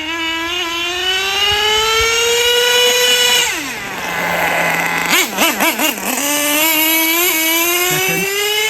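HPI Savage XL nitro RC truck with a 3-speed transmission, its small engine revving hard in a high, buzzing whine that dips to idle and blips several times before climbing again, loud and close.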